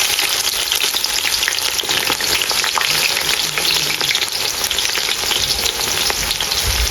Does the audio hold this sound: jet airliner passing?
no